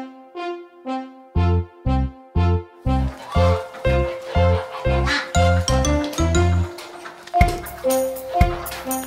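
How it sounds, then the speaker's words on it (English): Animated cartoon duck quacks in a children's phonics song, a steady series of loud, evenly spaced quacks over tinkling music. "The ducks, they go a quack, quack, swimming round in rings."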